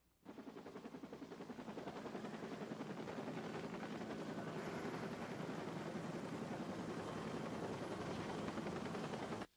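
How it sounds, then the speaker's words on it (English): A rescue helicopter taking off: the rotor thumps in a rapid, steady beat with engine whine, growing slightly louder and holding strong for several seconds. "when I watched that helicopter go up"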